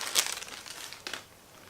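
Crinkly plastic packaging gets handled as a keyboard toy is pulled out, giving a couple of short close crackling rustles with quiet between them.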